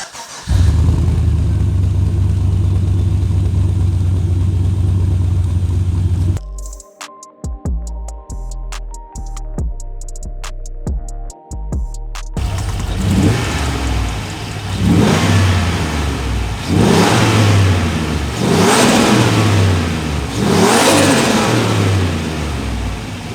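A turbocharged LS V8 in a Holden VY Commodore one-tonner ute idles loudly and steadily, cuts out briefly amid a few sharp bursts, then revs hard with repeated rising surges as it accelerates, close and powerful.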